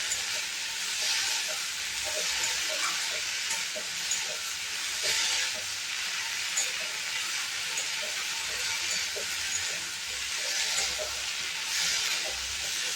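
Tomatoes sizzle as they are stirred and fried in a pan for a prawn dish, a steady close hiss with small clicks and scrapes running throughout, no voices.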